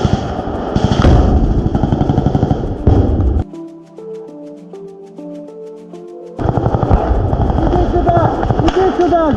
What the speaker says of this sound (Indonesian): ledakan demi ledakan terus terjadi